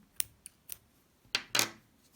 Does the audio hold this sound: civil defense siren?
no